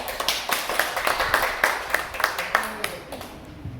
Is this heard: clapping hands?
yes